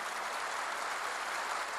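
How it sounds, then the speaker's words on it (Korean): A church congregation claps hard and steadily, a dense, even wash of many hands applauding together with no talk over it. "박수 좀 세게 쳐요"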